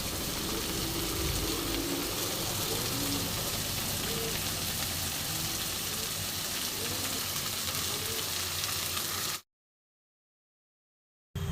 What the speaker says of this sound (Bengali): আমি সব পেঁয়াজটা দিয়ে দিচ্ছি। বন্ধুরা, একটু লাল করে ভেজে নেব